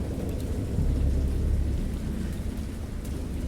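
Thunder rolls low and heavy beneath steady rain, a deep rumble swelling around the middle and then fading back into the continuous wash of rainfall, with no voices.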